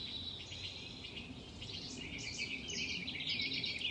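Faint birds chirp and trill continuously in the distance over a soft outdoor hiss, with no voices present.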